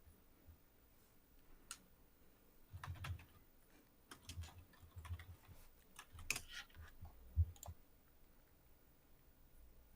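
Typing on a computer keyboard, faint close-up clicks and taps in uneven bursts, sparse at first and then busier runs of keystrokes, heard alone in a quiet room.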